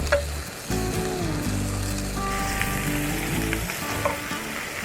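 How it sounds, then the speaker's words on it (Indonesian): Chicken sizzling and frying as it grills in an oiled pan for Ayam Taliwang, a steady close crackle broken by a few clinks of utensils throughout. "Ini kita panggang dulu."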